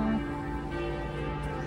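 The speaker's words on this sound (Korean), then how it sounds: "종소리를 따라서 왔더니 엄청 큰 성당이 있었어요" Church bell ringing in Paris, a sustained tolling resonance that hums steadily across a busy street-level ambience for the whole stretch.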